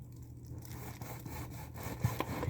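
A kitchen knife slices through food for a gourmet grilled cheese, cutting pieces about an inch thick, with quiet, rough, repeated sawing strokes close by and a few firmer scrapes near the end.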